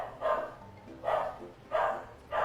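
A dog barks four times at an even, unhurried pace, each bark short and fairly close, with quiet between them.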